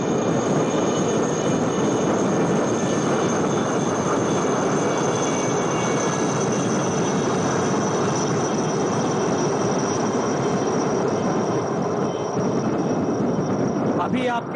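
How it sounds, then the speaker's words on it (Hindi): Six Chetak helicopters sweep past in diamond formation at a naval parade in Visakhapatnam, a loud, steady rotor-and-engine roar that holds for the whole stretch with little change in level. "Coming up next are 6 Chetak helicopters from the 3-1 flight in a diamond formation"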